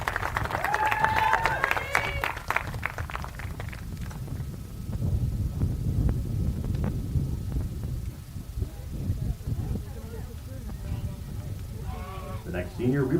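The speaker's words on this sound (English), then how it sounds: "a round of applause for Mackenzie Bird." A crowd at a college softball game's senior recognition applauds and claps steadily throughout, with some cheering voices mixed in at the start and near the end.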